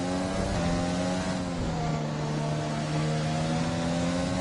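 F1 2020 race cars in the video game revving their engines at the start of the Abu Dhabi Grand Prix, a loud continuous whine that holds and shifts in pitch as revs climb, with several engines layered together.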